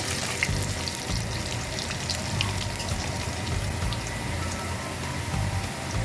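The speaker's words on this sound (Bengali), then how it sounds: "এবার আমি এর ভিতরে ধুয়ে রাখা আলুগুলো দিয়ে দিচ্ছি ভাজার জন্য।" Washed potato pieces fry in a pan of hot oil, already used for katla fish, in a home kitchen, giving a continuous, even, crackling sizzle up close with no voices.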